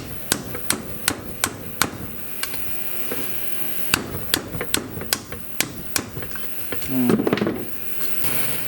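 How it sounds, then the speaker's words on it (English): Repeated sharp heavy-hammer blows on a stuck exhaust pipe of a 1937 Briggs and Stratton Model A engine, evenly spaced in two bursts over a steady background hum, with a brief scraping sound near the end. "use a heavier hammer"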